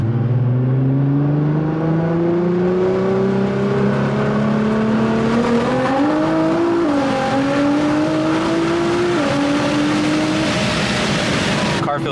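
A turbocharged car's engine revs hard and climbs steadily in pitch through the gears, loud and close, with brief dips at each shift.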